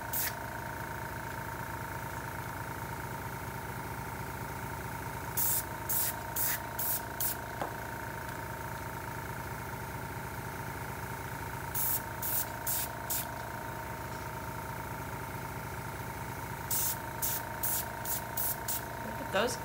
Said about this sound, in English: add a drop, and with my presser, spray it out